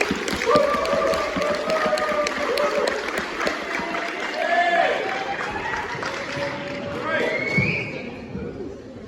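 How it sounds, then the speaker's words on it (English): An audience at a student festival gives performer Zoe Jung a warm round of applause. Clapping runs throughout, mixed with crowd noise and cheers, and voices can be heard over it. "Can I please get a warm round of applause for Zoe"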